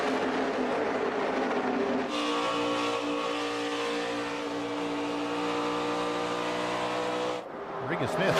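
NASCAR stock cars race at Texas Motor Speedway during a 300-mile night race, engines roaring loud and continuous as they sweep past, with pitch shifts as cars pass and a commentator talking over the noise.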